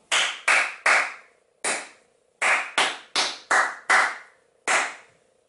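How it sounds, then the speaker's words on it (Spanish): Hands clapping out a rhythm in a children's music exercise, ten crisp, loud claps in an uneven pattern with clear gaps between groups, heard alone and close. "vamos a intentar hacerlo con palmas"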